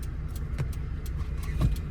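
A car engine idles steadily after being started, a low continuous rumble close by with a faint jingle of keys, no talk over it.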